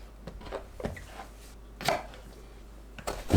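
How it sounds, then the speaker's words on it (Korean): A knife chops through an eggplant on a cutting board, taking off the stem and the tip. A few sharp, separate cuts land close by, with quiet gaps between them. "가지는 꼭지와 가지 끝을 제거합니다."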